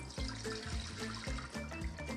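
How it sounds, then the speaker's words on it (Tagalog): Water pours into a Masflex pan while cooking kakanin made with glutinous rice flour, a continuous splashing gush with a few uneven gurgling surges, close and fairly loud, with no talking. "Maglalagay ako ng tubig."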